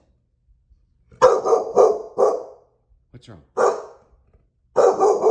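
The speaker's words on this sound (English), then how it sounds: "the dog continuously barks" A dog named Jackson barking indoors in sharp loud bursts, a rapid volley of barks followed by single barks after pauses, close by, with a person briefly speaking between them.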